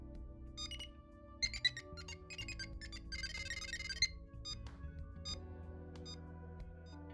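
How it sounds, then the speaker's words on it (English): A rapid series of electronic beeps and short tonal chirps from the buzzer of an NFC keyless motorcycle ignition, bright and close, repeating in uneven bursts over a low steady hum. "this buzzer, which will play different sounds when the system performs an action"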